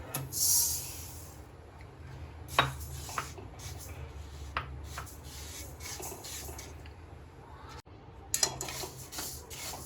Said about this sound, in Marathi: नाचणी भाजून घेऊया